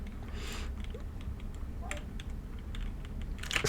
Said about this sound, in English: what's with me typing today?